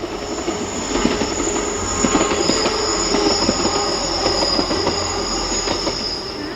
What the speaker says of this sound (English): A ScotRail 158 works an Inverness to Kyle service at Erbuseg in April 2007.